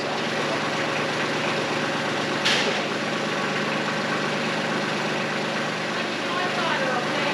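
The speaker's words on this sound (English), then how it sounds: "I'm just gonna use my tractor" A tractor engine idles steadily close by, a continuous low rumble with a brief burst of hiss partway through.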